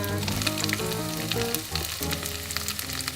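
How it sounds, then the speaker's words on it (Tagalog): Garlic, bay leaves and onion sizzle steadily in hot cooking oil, a dense close frying hiss with crackles, alone without talk. "love that sizzling sound"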